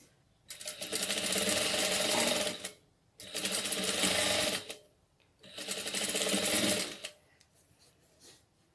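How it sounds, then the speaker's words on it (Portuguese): A sewing machine topstitches a seam close to the edge on a small doll dress, running in three loud, steady bursts of about two seconds each, with short pauses between them and near, rapid needle chatter. "vou rebater essa costura bem no cantinho"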